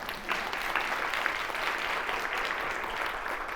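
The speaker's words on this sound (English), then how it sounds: "let's give them a round of applause" An audience applauds at a professional HR career talk, a steady even wash of clapping from a room full of people, including some seated on the floor, sustained for the whole stretch at moderate level.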